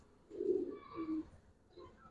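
A Giribaz high flyer pigeon coos softly in two low, rounded phrases, then gives a fainter third murmur, with no voices around it.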